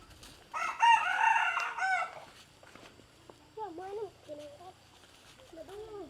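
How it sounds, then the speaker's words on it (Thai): A domestic rooster in a rural Lao village crows once loudly and close, followed by softer clucks and bird calls, with someone talking over part of it. "ทุกคนเห็นบ่นั่นเป็นไก่บ้านเด้อบ่แม่นไก่ป่าเด้อ"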